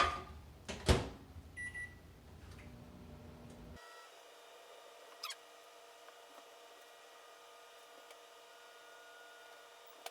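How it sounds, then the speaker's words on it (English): A door clunks and a couple of short beeps sound, then a low steady hum of an appliance running continues quietly with an occasional faint click. "Into the microwave."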